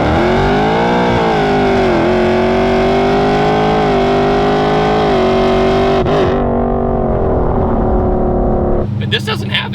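A supercharged Mercury Marauder engine revs loudly, distorted, and holds a rough, droning note for several seconds, then cuts off abruptly with a brief rattle at the end.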